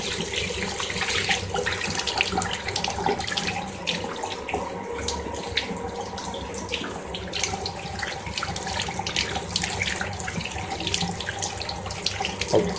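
Murky, brownish drinking water runs steadily from a tap in Ahvaz, a continuous splashing gush into a sink with no voices.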